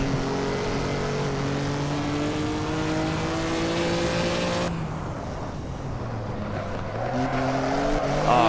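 A 1950s Formula One car engine in Assetto Corsa, racing at the Dutch Grand Prix, drones loud and close with a steady harmonic whine, then cuts sharply on a downshift before climbing again in pitch, with no talking.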